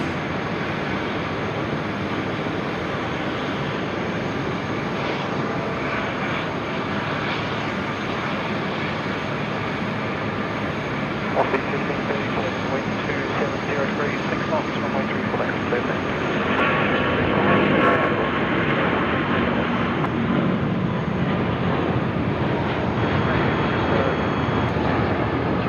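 A jet airliner passes at night at Sydney Airport, its broad engine roar steady and loud throughout and swelling slightly toward the end, with occasional voices underneath.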